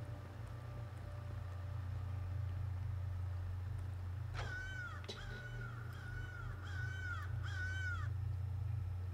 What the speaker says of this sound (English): Fucking crow is so annoying.